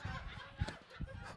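A voice mimics a goose honking, giving a few short, faint nasal squawks in an uneven rhythm with no other talk.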